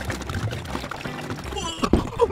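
Water pours into a container for a sink-or-float experiment, a short soft splashing trickle close by, with talk and background noise around it.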